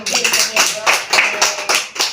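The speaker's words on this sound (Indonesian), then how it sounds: "semua tepuk tangan" A class of young children claps hands together in a rhythmic pattern, about eight sharp, fairly close claps in quick regular beats with a faint voice underneath.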